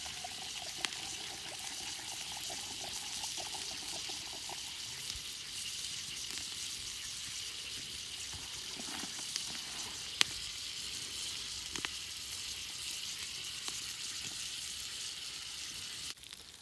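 Water for a Civil War Union soldier's rations sizzles and hisses steadily in a pot on a campfire, with faint crackles and a few sharp pops, close and continuous with no talk.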